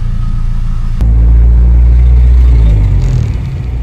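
A Honda Civic with a street-tuned exhaust idles nearby, its deep, loud rumble steady throughout, with a sharp click about a second in as the drone swells slightly.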